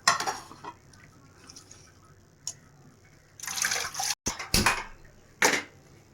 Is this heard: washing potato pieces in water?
yes